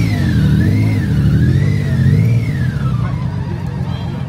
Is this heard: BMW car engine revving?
yes